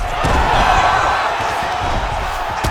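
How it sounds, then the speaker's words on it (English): An arena crowd roars loudly and steadily during a UFC 5 video game fight. The cheering swells briefly and stays up front throughout. "Yeah, the crowd loves this."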